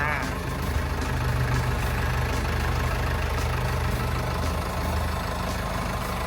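An Isuzu 4BG1 four-cylinder turbo diesel in a TCM L13 wheel loader idles steadily and close, a continuous even rumble running alone without talk.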